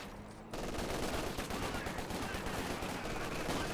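MG42 machine gun firing in Company of Heroes 2, a dense battlefield stream of rapid gunfire that bursts in abruptly after a quiet half-second and keeps rattling steadily, loud and continuous.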